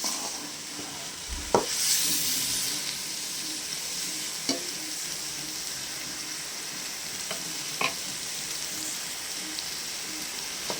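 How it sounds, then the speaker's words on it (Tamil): Snake gourd curry sizzles steadily in a pan, with a spoon or spatula clinking against it a few times at intervals over the constant frying hiss. "நல்லா கிளறி விடலாம்."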